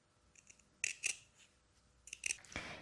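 Scissors snipping back the fabric seam allowance on a blouse being sewn, a few short crisp cuts in two close pairs followed by a brief rustle of cloth, close up and quiet.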